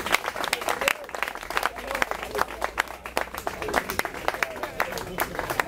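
A church congregation claps in a continuous, lively patter of many hands, with voices speaking and calling out over the applause.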